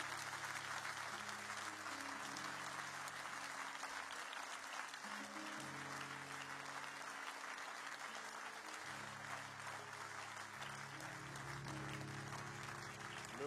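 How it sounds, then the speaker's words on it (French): A church congregation applauds and cheers for the Lord, a steady, dense wash of clapping from a large crowd that holds throughout at a distance, with faint voices mixed in. "Veuillez acclamer le Seigneur encore avec nous"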